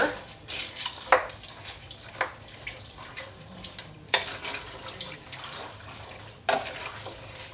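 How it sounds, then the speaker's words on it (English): Bacon is stirred into bean and bacon soup in a pot, with soft wet sloshing and several sharp scrapes and clinks of a spoon against the pan at irregular intervals, fairly quiet and close. "last but not least, we're going to add all of our bacon. We're going to give that a stir."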